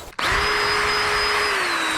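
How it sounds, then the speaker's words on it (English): A power drill boring a hole in a Duke #3 trap held in a vise, starting abruptly and then whining loud and steady at close range for the rest of the moment. "you have to drill this hole in there, and I suggest you put it in the vise"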